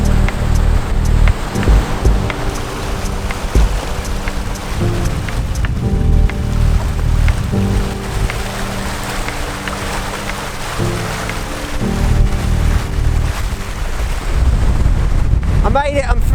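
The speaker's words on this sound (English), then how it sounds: "God damn, it's windy!" Strong wind at a rough beach about half an hour before sunrise, heavy gusts buffeting the microphone in a loud, continuous roar with surf rumbling underneath and no talking.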